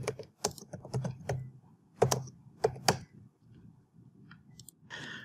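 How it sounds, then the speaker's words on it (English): A command is typed on a computer keyboard in short bursts of quick, close key clicks. Two louder strokes land around the middle, there are brief pauses between groups, and a faint click comes at the end. "This can be done by typing in ifconfig WLAN 0 up."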